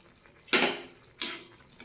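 Salted curry in a pot for a theeyal is stirred with a utensil, making two loud scraping sweeps about half a second apart over a soft background, with no talking.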